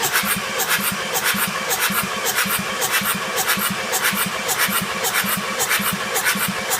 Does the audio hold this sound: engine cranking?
yes